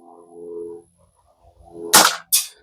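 After a brief low hum, a CO2 air pistol with blowback fires, producing a sharp, loud crack and then a second quick metallic snap a split second later.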